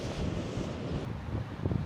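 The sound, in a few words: wind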